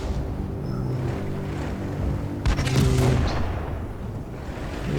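Tank cannon fire and shell hits in the video game World of Tanks, heard as a heavy rumbling battle background with a sharp impact or shot burst near the middle, and no talking.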